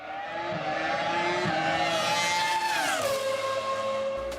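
A high-revving Formula 1 V10 racing engine howls loudly as a car passes by, its pitch rising and then dropping away.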